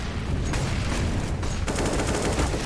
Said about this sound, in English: look at these pistols go and watch them burn